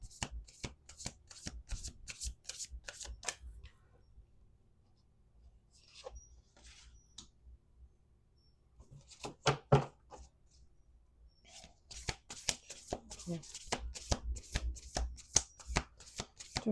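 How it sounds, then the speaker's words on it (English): A deck of tarot cards is riffled and shuffled close up: bursts of rapid crisp flicking and snapping, a quieter stretch of light card handling midway, then another vigorous run of shuffling, with no talking. "Let's do two more shuffles."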